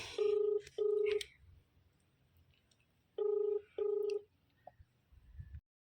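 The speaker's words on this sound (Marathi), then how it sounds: "आता दुसरा नंबर डायल करताय" A telephone number being dialed as keypad tones: two pairs of short, loud steady tones sound close by, each pair separated by a pause, followed by faint rustling.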